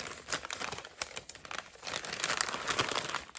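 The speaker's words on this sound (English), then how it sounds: "So I unwrapped it." Crinkly plastic or paper wrapping being torn and crumpled open on a surprise mail package, close and fairly quiet, a steady busy rustle with small sharp crackles and no voices.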